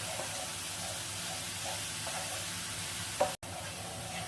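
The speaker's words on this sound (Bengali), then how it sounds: "এই পেস্টটা একটু ভালোভাবে তেলের সাথে কষিয়ে নিতে হবে।" Green paste for green paneer sautéed in oil in a pan: a continuous close sizzle with soft periodic stirring strokes, then a brief clatter followed by a sudden short dropout.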